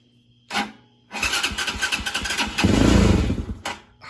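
A 250cc engine with a freshly fitted PZ30 carburetor cranks with a brief starter burst, then catches and fires into a steady running note that swells louder toward the end, close up with no speech.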